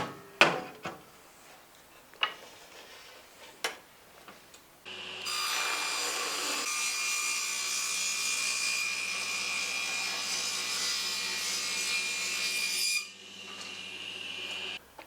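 A saw rips through pallet timber to cut a beehive frame bottom bar, a loud continuous cutting whine lasting about eight seconds, preceded by scattered knocks and handling of wood.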